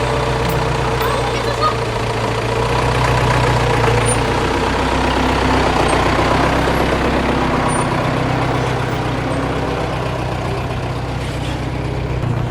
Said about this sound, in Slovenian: Naš avtobus skozi Tibetansko ali nepalsko vasico.